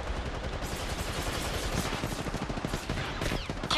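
Rapid bursts of automatic gunfire from the Apex Legends Mobile video game rattle continuously and loudly, with dense overlapping shots throughout.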